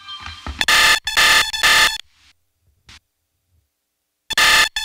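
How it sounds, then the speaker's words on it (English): A telephone rings loudly in bursts, three rapid rings, a pause, then it starts ringing again. "Why is my phone ringing?"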